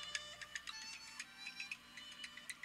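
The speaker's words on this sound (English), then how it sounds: "Well, I got a phone call here." An incoming call's phone ringtone: a quiet, bright run of rapid repeating electronic chimes, faint and steady, heard alone.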